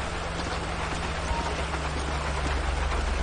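Steady rain falls in the Grand Theft Auto V world during a police patrol, a dense, even hiss with a low engine-like hum beneath it, continuous and fairly loud.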